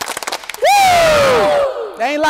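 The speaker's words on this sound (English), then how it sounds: "Give me two claps and a Ric Flair." A crowd at a hip-hop event gives a few quick sharp claps, then a long, loud, sweeping Ric Flair-style "woo" that rises and slowly falls away.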